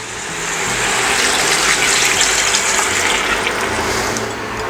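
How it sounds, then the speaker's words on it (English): Chicken stock pours steadily into a cooking pot of garlic for chicken blood rice, a continuous close liquid gush holding at an even level for several seconds with no talking. "So we're going to go with our chicken stock first."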